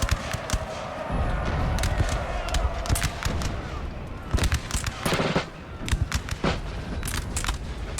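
Musket volleys crackle through a Napoleon Total War battle, dense bursts of overlapping shots popping near and far in ragged waves, with a faint background hum of battlefield noise.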